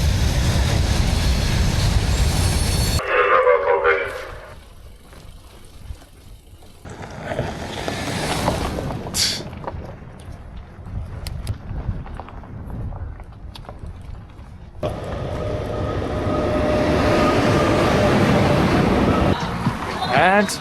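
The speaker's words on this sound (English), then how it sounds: "There are so many freight trains here." Freight trains rolling along rails in Russia, a broad rumbling passage with bursts of wheel noise that fade to quieter stretches and then swell again, with voices heard speaking over parts of it.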